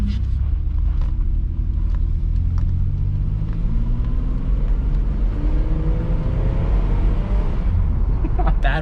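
A 1980s Buick car being driven, heard from inside as a steady, loud low engine and road rumble with rising gear tones, constant throughout with no clear talk.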